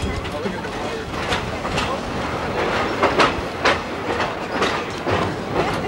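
Rhythmic clickety-clack of a train's wheels on the rails during a 1990 Skunk Train ride, a steady rumbling ride with repeated sharp clacks and people talking over it.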